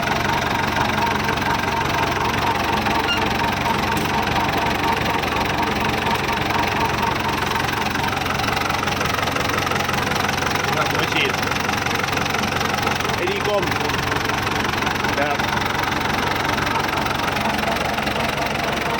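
A Ford T3 tractor engine runs steadily at idle with a knocking, rumbling drone that continues the whole time, close by, while someone talks over it.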